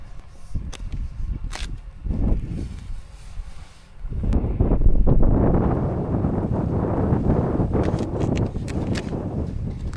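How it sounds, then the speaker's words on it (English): Strong wind buffets the microphone outdoors on the Kancamagus Highway in snowy weather, a rough, loud rumble that swells after a few brief knocks and then keeps roaring steadily, with no talking. "the wind started to pick up and it started snowing really hard"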